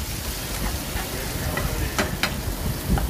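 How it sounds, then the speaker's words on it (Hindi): Tomatoes being mashed and pressed into a frying onion-and-spice masala in oil for dal, giving a continuous sizzle with soft scraping and squelching stirs. "इनको मैश करती जा रही हूँ मैं साथ साथ प्रेस कर करके, ताकि टमाटर बिल्कुल घुल जाए इसके अंदर"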